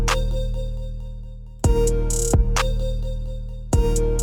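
A rapid hi-hat roll programmed in FL Studio pans from the right ear to the left over a sustained low bass tone, with a few louder crashing hits breaking in at intervals.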